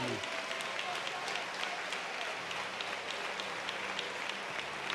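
Congregation at a church testimony service gives steady applause for a family, dense continuous clapping filling the room with no break.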